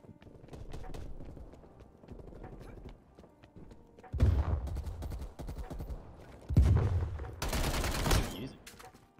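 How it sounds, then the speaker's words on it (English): A KSP three-round-burst SMG fires in Black Ops Cold War, with several loud clusters of rapid gunshots among game footsteps and effects, and a player's voice speaks over parts of it. "It's the first time we're using this KSP. It's a three-shot SMG."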